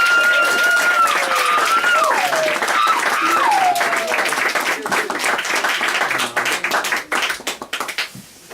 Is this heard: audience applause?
yes